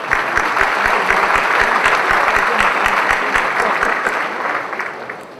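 Sustained audience applause at a Brazilian defence industry conference, loud and steady with dense clapping that fades slightly toward the end.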